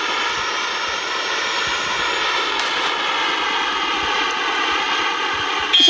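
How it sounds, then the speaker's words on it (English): Jet aircraft engine in the mobile shooter Call of Duty Mobile: a steady, loud, droning whine that holds level throughout, with no talking over it. "It's like so much fun using the jet."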